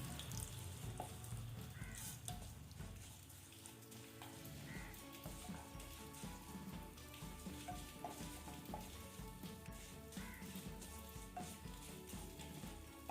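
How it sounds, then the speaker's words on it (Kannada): Urad dal frying in oil with curry leaves for a banana stem palya, a steady dense sizzle with crackling and occasional stirring scrapes, close and continuous throughout with no talk. "ಅದು ಸ್ವಲ್ಪ ಫ್ರೈ ಆದ ನಂತರ ನಾವು ಉದ್ದಿನ ಬೇಳೆ ಉರದ್ ದಾಲ್ ಹಾಕುವ"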